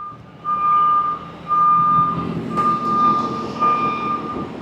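Reversing beeps from a 2011 Ford pickup with a 6.7 Powerstroke diesel, evenly spaced steady tones repeating about four times over a low idling engine rumble, close by with no talking.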